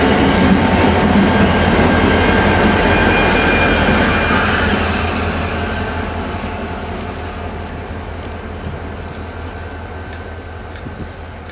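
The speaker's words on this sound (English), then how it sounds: "We shoot this same set as it shoves back into the massive former EJ&E Kirk yard" Freight train shoving back into the former EJ&E Kirk yard near Chicago's East Side, loud rolling wheels and rumbling cars close by with a faint squeal, gradually fading as the cars move away, with no talking.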